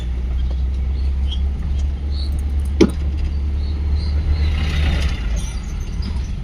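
A car rolls slowly along the Hajiganj bazaar road with a learner at the wheel, its engine giving a steady low rumble close by and one brief sharp knock midway.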